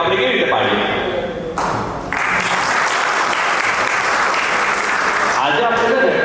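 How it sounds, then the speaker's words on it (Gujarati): Audience applause at a builder's new project launch corporate event, loud sustained clapping that briefly dips and then swells again, with voices and cheering underneath. "ચલો જોરદાર તાળીઓ થઈ જાય"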